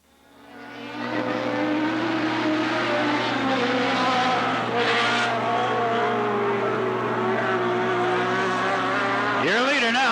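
Race cars roar around Cottage Grove Speedway in a 1991 dirt-track race, one running a 1200cc Yamaha engine. A loud, steady, droning engine note holds throughout, with a rising whine near the end.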